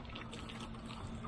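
Water pours steadily from a garden hose in Florida while avocado trees are watered, a continuous close splashing hiss with no break.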